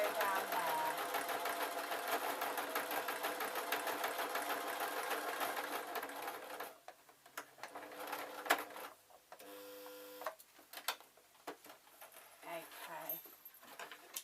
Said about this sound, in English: I'm going to reverse it, and I'm going to feel with my fingers, I'm pinching it out, and I'm going to sew down there